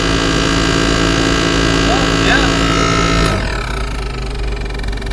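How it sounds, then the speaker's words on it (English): A Pontiac Fiero air conditioner running, a loud steady blowing hum with engine drone and tonal whine that shifts and drops somewhat in level partway through. "The air conditioner does work."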